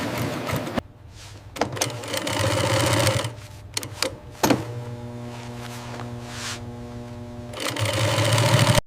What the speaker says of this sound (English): Precision stitching ensures durability while preserving the elegance of Hyena leather.